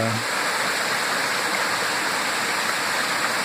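Stream near Babaji's cave with small wavelets washing over rocks, a steady close rush of flowing water filling the whole moment without pause.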